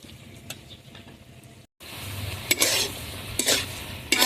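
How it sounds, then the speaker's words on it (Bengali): Potatoes and tomatoes sauté in a pan with a steady close sizzle, a brief break, then louder scraping stirs over the frying hiss. "আলু আর টমেটো এভাবে ভালোভাবে কষিয়ে নিচ্ছি, আরও একটু কষিয়ে নেব"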